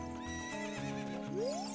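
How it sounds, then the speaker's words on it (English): Horse neighing in The Legend of Zelda: Ocarina of Time, a close, clear whinny with a shifting tone and a rising squeal at the end, over soft background game music. "Yeah, the horse is right here."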